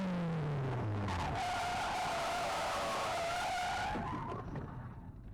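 A Nissan 240SX with a K-swap engine spins out on a race track, tires skidding and squealing loudly, engine note dropping then rising, with a long screeching slide that fades near the end.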